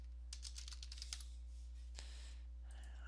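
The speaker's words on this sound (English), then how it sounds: "we are going to type in .NET framework" Quick run of computer keyboard keystrokes entering a search term, faint clicks in a short burst, then a few more taps.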